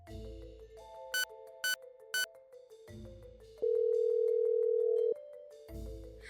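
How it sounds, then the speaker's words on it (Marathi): A phone call rings out as a single ring, with short beeps and then a long steady tone between quiet stretches, and no one speaks. "अगदी एकाच रिंगवर तिचा फोन उचलला गेला."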